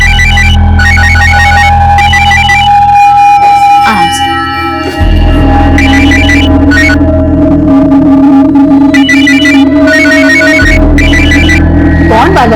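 A telephone ringtone plays in bursts over a steady background hum in a family home, with a short gap partway through before it resumes, and people talk over it.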